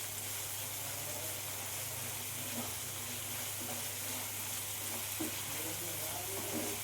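Masala spices for paneer masala frying in a pan while being stirred, a steady broad sizzle and hiss with faint scraping movements throughout and no talking.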